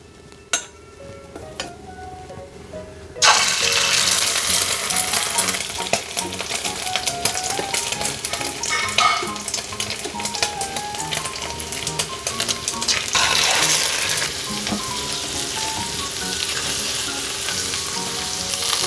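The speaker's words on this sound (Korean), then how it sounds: "이렇게 달궈진 후라이팬에 식용유를 넣고 호박전부터 부쳐 볼게요." Zucchini pancakes fry in oil in a hot pan, a loud steady sizzle that starts abruptly after a quiet moment and continues throughout with occasional clinks of a utensil.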